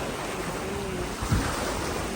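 Sea water surges into the Thunder Cave at the Ovens sea caves near Lunenburg, Nova Scotia, a continuous wash of surf and wind noise with one dull low thump midway.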